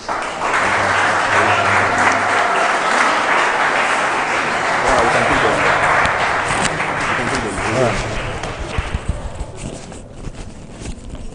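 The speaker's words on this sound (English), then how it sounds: "with a round of applause, can we please invite Barnabas Nomo and Abdul Hamid." Sustained audience applause fills a room as guests are invited on stage, steady and loud for about eight seconds before thinning into scattered claps, with some talking mixed in.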